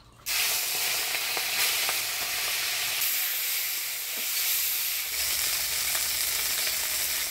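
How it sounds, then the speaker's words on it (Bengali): Chapila fish, rubbed with turmeric and salt, frying in a pan gives a loud, steady sizzle. The sizzle starts abruptly and holds close and constant throughout, with no talking. "চাপলা মাছটা ভালো করে ভাজে নিলাম, এবার তুলে দেব।"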